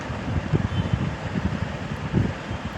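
Wind rushes steadily in a Roblox prison escape game, a low continuous whoosh with slight swells and no voices.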